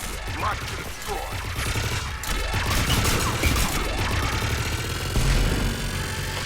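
Sustained automatic gunfire in the sci-fi shooter Mass Effect Legendary Edition, a loud continuous crackle of rapid shots with whooshing sweeps and mechanical noise layered throughout.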